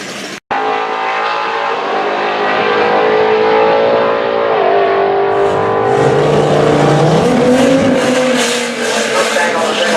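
A Stage 2 tuned Audi RS3 on E70 fuel makes a full-throttle drag strip run, its engine droning loud and continuous with rising pitch through gear changes, after a brief sharp click at the start.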